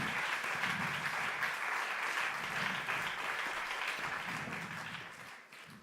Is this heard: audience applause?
yes